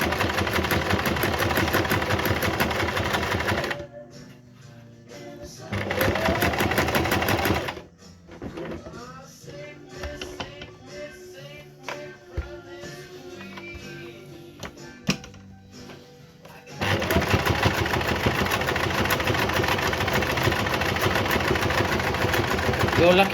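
A home sewing machine stitching in long steady runs, loud and close, stopping for a stretch in the middle while someone talks and fabric is handled, then starting up again.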